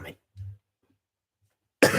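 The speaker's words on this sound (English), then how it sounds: "got a bit of a cough." A person gives a couple of short, low coughs close up, with a quiet pause before a louder burst of throat-clearing noise at the end.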